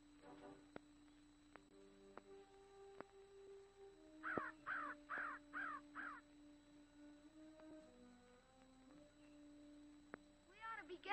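Harsh crow caws come in a series of about six evenly spaced calls, fairly close, over a low hum with scattered clicks and a faint later call.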